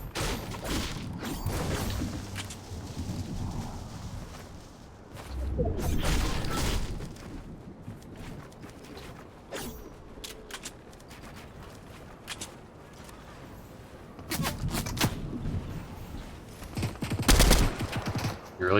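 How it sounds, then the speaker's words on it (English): Bursts of rapid gunfire from a Fortnite match crackle in loud clusters, heaviest near the start, middle and end, with quieter stretches of game ambience between volleys and occasional talk underneath. "Getting shot at."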